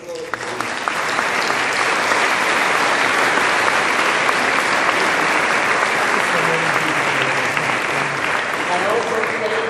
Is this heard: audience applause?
yes